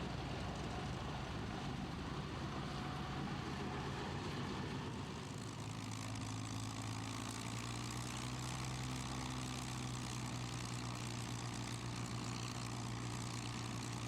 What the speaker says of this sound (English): here's a glimpse of the P-47 Thunderbolt